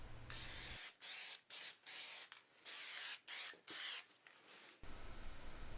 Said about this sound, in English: apply more spray adhesive to the rest of the template